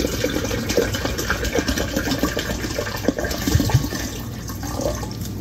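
Bottled water pours into an Osterizer blender cup, a continuous splashing, gurgling stream with some low rumble running steadily from start to finish.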